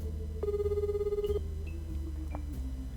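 A phone rings in a visual novel video game, electronic ringtone tones repeating in short bursts over a soft musical background, fairly quiet and without speech.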